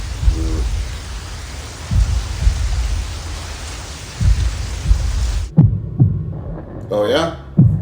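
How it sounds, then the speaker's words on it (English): Godzilla's heartbeat from Godzilla 1998 thumps in slow, heavy, booming beats over a rain-like hiss, then continues after the hiss cuts out, with a brief tonal sound near the end. "and does this part where Matthew Broderick watches Godzilla die by listening to his heartbeat slowly stop seem familiar at all?"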